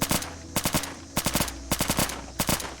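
VSV rifle fire in Fallout 4 in short rapid bursts of three or four cracks each, sharp and loud, with brief pauses between bursts and no voices.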